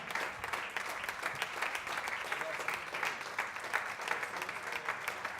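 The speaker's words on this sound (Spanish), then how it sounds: "Dale ese aplauso a Él." Congregation applauding in a Spanish-language church service, a dense sustained clapping with sharp individual claps throughout, fairly near and loud.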